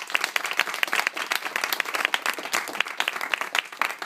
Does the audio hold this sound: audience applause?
yes